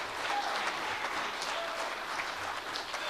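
Sustained applause from an audience fills the space, a dense, even patter of many hands clapping steadily throughout.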